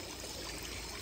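A small water fountain trickles quietly, a soft continuous wash of running water with no other sounds.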